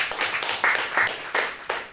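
A small group at a church service clapping hands at close range, uneven bursts of claps rising and falling over about two seconds.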